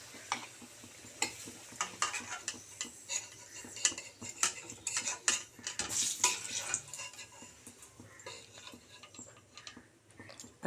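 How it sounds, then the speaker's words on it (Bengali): Pieces of local free-range chicken fry in a pan under a faint background sizzle, while a metal spoon stirs them with frequent sharp, irregular clinks and scrapes against the pan. "মাংসগুলোকে একটু ভেজে নেব মাংস ভেজে করলে একটু আলাদা স্বাদ হয়"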